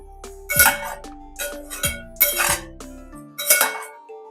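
A spoon stirs and sautés garam masala in a pan for spicy homemade mutton gravy, striking the metal in a handful of sharp, ringing clinks spaced about a second apart.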